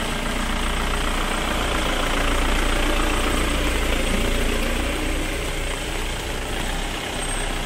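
A private luxury bus, hired to carry villagers from Kumbhavade back to Mumbai, idles in the rain with a loud, steady diesel rumble that holds even throughout, with no speech over it.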